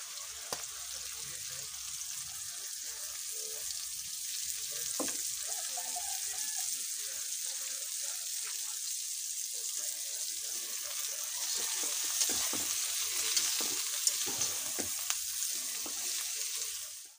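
Egg fries with ampalaya in a pan, giving a soft, continuous sizzle with small crackles, fairly quiet and close, with occasional faint stirring and background noise.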